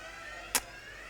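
A 1/10th scale nitro RC racing car engine buzzes steadily at a world championship track, with one sharp burst as a car passes close.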